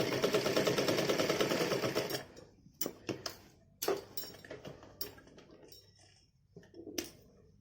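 A sewing machine stitching along the edge of a baby's dress, running in a fast steady whirr for about two seconds, then stopping, followed by scattered handling clicks and short knocks.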